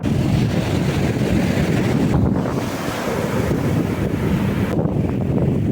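Sea waves wash steadily onto Bhavanapadu sand beach under strong gusting wind, a continuous loud roar of surf and wind buffeting with no voices.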